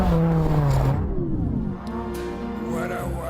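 A Lamborghini Gallardo LP560-4 supercar driven through snow: a loud, steady engine drone that swells and revs near the start, then settles into a continuous close roar.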